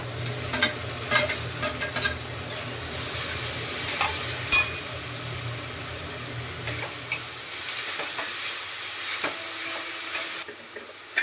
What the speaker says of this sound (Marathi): आता टमाटा घालते परतायला